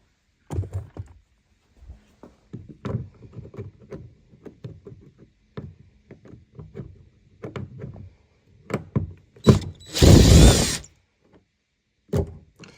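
Hand screws being backed out of a Land Rover Discovery 2 driver's door panel with a magnetic-tipped Phillips screwdriver: scattered soft clicks, scrapes and taps up close, with one louder rustling burst near the end and no talk.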